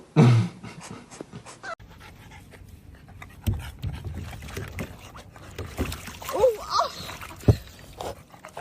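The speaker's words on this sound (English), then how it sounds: "I'm walking my dog" A dog on a walk pants in quick, breathy bursts close by, with splashing-like noises and people talking intermittently in the background.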